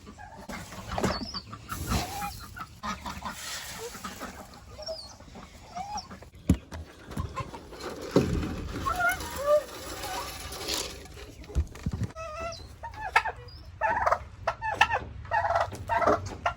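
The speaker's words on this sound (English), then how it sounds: "You're supposed to keep these chickens in order" Chickens cluck and squawk close by in a farmyard, with other fowl calls scattered throughout while people talk over the birds.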